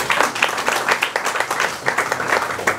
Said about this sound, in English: you can clap anyway